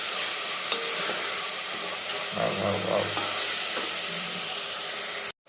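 A spoon stirs tomato bath mixture in a hot pan, a steady sizzling hiss with soft scraping and a few light clinks, cut off abruptly at the end.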